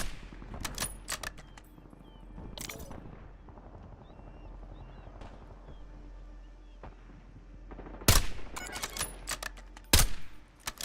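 Enemy sniper fire in a first-person shooter: a few sharp, loud gunshot cracks ring out at intervals over a low, steady game-engine rumble, with two hard blasts standing out near the end.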